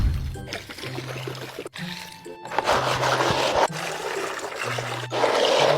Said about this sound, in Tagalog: tsaka lalagyan natin siya ng tubig